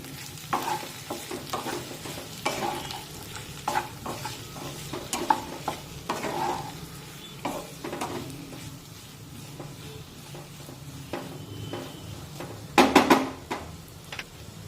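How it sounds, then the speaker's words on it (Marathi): A spatula scrapes and clacks against a kadhai in irregular strokes while potato dry curry sizzles softly, ending with a louder burst of clattering. "आणि बटाटा थोडासा खालीवर करून घेऊया"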